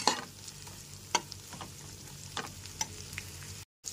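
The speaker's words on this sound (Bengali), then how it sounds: "গ্যাসের ফ্লেমটা এখানে লো টু মিডিয়ামে রেখে আদা বাটাটা ভালো করে কষিয়ে নেব।" Ginger paste being sautéed with onions in a pan over low to medium gas flame, a steady close sizzle punctuated by a few sharp scrapes and stirs of a spoon against the pan.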